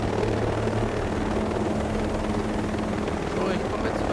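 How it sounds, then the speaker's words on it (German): A video game helicopter in Ghost Recon Breakpoint approaches with a continuous, loud rotor drone that holds steady throughout, with voices talking over it. "So, jetzt kommt gleich der erste Heli."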